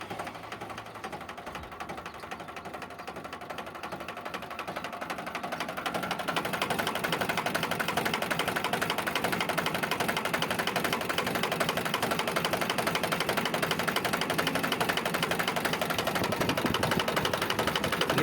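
A steady, droning engine runs continuously, quieter at first and then louder and fuller after a few seconds, with a rough mechanical chatter throughout.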